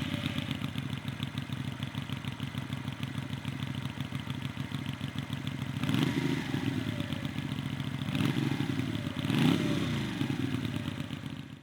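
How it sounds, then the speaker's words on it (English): A Benda Rock 125 V-twin motorcycle engine starting and idling close by: a steady, loud, rapid clattering throb with a few brief revs near the end, no voices. "the V-twin in the Benda is one I really like, even just when starting it up"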